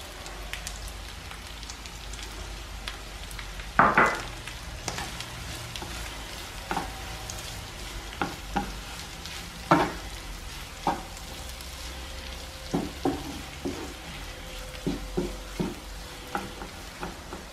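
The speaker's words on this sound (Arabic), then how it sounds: "غادي نخلي كلشي يتشحر" Shrimp and cheese filling for briouats cooks in a pan, a soft continuous sizzle broken by scattered sharp scrapes and taps of a spoon stirring against the pan.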